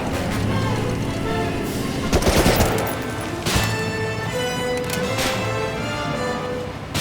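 Gunfire and heavy blasts in the Medal of Honor Rising Sun game during a truck ride toward a bridge, booming hits over a droning engine and scattered shots, with some speech mixed in.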